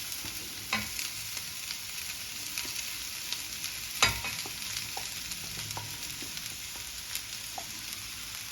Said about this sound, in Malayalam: ഇനി ഇതൊന്ന് നന്നായിട്ടൊന്ന് മിക്സ് ചെയ്യാം